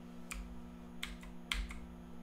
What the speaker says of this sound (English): you can see what the heck I'm typing here